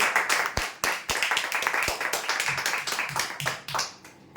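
An audience at a prize draw applauds a winner, giving a burst of many hands clapping with a few sharp, close claps at the start and a steady patter that fades toward the end.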